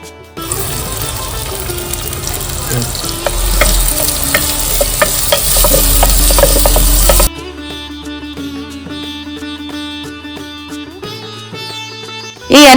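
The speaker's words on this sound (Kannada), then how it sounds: "ಈ ಎಣ್ಣೆ ಚಲೋ ಬಿಸಿ ಆಯ್ತಂದ್ರ ಇದ್ರೊಳಗೆ ಉಳ್ಳಾಗಡ್ಡೆ ಹಾಕ್ತೀನಿ" Loud crackling sizzle of onion frying in hot oil in a clay pot over a wood-fired stove, dense spattering with stirring scrapes, then suddenly quieter with a low steady bubbling before a final burst.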